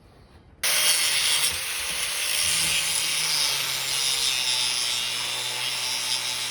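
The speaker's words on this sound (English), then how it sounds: "grinding all the paint off and grinding all the rust off so I can paint them all nice." Angle grinder stripping paint and rust from Jeep XJ steering knuckles, starting abruptly into a loud, harsh, continuous abrasive roar that holds steady for about six seconds, close up with no talking.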